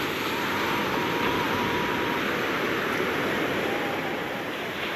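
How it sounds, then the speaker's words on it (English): Ocean waves wash steadily in a continuous broadband roar of surf. The sound stays loud and even from start to finish, with no voices over it. "And I'll let the ocean wash my weary soul clean."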